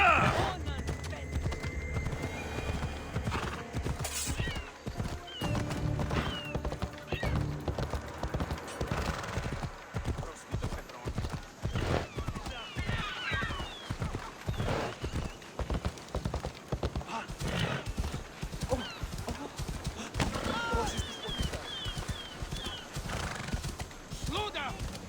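A horse gallops across the landscape in Assassin's Creed Odyssey, its fast rhythmic hoofbeats steady and close throughout, with a whinny early on and game voices talking over the ride.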